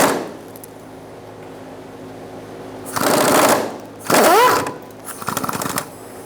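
A 13mm tool works a bolt loose on a 2004-2009 Mazda 3 2.3L four-cylinder during a fuel pump module replacement, giving three close, loud rattling bursts separated by short pauses over a quiet background.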